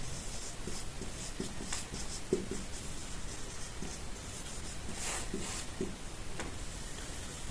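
Pen scratching and tapping on paper while a Class 10 maths problem on HCF and LCM is written out, a close, irregular run of strokes and taps with no talking.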